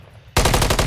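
Sustained automatic gunfire erupts abruptly and rattles on loudly in a rapid burst during a competitive video game match, a long-range gunfight in an AJCL playoff game, after a brief quiet lead-in.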